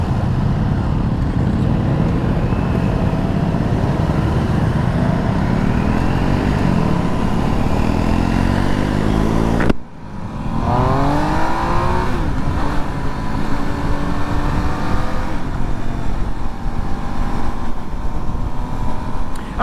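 A Triumph Trident 800 motorcycle engine drones loudly while riding, its pitch climbing steadily through the gears, a sharp drop at a shift, then rising again under constant wind rush.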